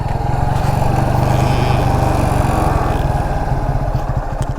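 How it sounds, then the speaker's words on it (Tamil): Motorcycle engine held at full throttle during wheelie stunt training in Salem, a loud, steady, buzzing roar up close with a fast pulsing beat, no voices over it. "த்ராட்டில் கொடுங்க ப்ரோ, த்ராட்டில் ஃபுல்லாக இந்த பக்கம்."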